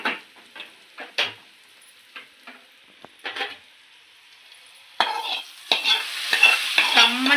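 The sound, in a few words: tempering with asafoetida added to pappu charu and stirred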